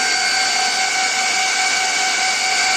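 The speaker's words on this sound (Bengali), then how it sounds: "এই ফ্যানগুলো শব্দ দেখুন ভিউয়ার্স" Cooling fans on a high-performance storage server run at full power, a loud, steady whirring whine with constant tones that stays alone throughout.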